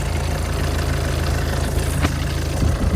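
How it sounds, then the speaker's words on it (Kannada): Tata Nexon engine idling steadily and smoothly, a close, continuous low rumble with an even hum and no talk. "ಗಾಡಿ ಇಂಜನ್ ಭಾಳ ಸ್ಮೂತ್ ಐತಿ"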